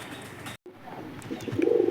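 Pigeons cooing inside a home pigeon house, soft low coos close by, growing louder toward the end after a brief dropout.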